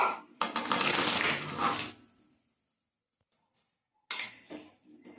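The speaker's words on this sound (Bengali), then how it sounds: "এখন আমি চাল কুমড়ো গুলো দিয়ে দেবো এর মধ্যে" Ash gourd pieces tipped into a pot of warm water, giving a close, dense rush of clattering and splashing for about two seconds, then silence, then a brief second burst of knocks and clinks.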